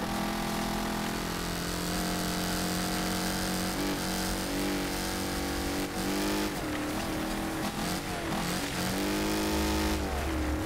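Car engines roar and rev continuously during a snowy online race in the Wreckfest video game, with loud, sustained engine tones rising and falling as cars drift and accelerate.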